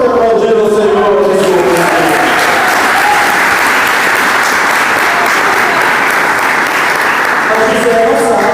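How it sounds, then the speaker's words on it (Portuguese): A church congregation applauding during a sermon: sustained, loud clapping from a large crowd, dense and continuous, with faint voices mixed in at the start and end. "Quem pode aplaudir o Senhor?"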